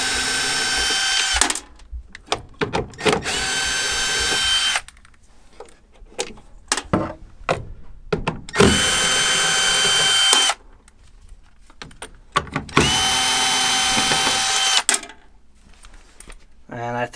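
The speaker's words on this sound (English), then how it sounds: "I just have to take out all the screws holding the inducer motor housing." Power drill backing screws out of an inducer motor housing, several loud whirring bursts of a couple of seconds each, separated by clicks, handling noise and quiet gaps, with a person talking in between.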